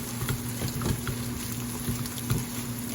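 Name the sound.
egg frying in hot pan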